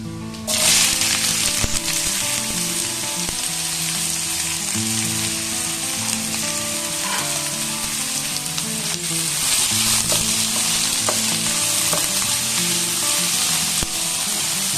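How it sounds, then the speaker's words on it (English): Onions fry in hot oil in a pan, a loud steady crackling sizzle that starts abruptly as they go in and holds throughout, with occasional stirring clinks and no talking. "Now the oil is nice and hot, so now I will be adding the onions to it."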